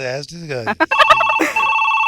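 A landline telephone rings on a comedy stage skit, its bright electronic trill starting just after a voice and repeating close and clear.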